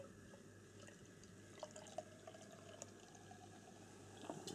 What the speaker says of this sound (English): So let's pour it out and see what we get.